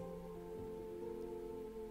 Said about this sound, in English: the heavy rain droplets splat on the sand around me, hard enough to make small valleys